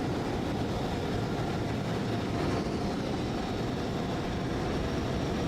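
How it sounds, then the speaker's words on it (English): Airbus A320 auxiliary power unit spooling up in Microsoft Flight Simulator, a steady loud broadband roar and whine that holds constant throughout, with no talk over it. "APU spooling."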